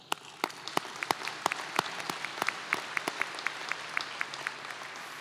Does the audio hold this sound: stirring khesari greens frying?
no